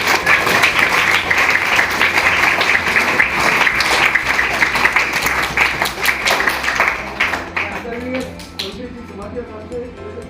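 A crowd at a school farewell ceremony applauds loudly and steadily for about seven seconds. The clapping then thins out and fades to scattered claps, with some voices beneath it.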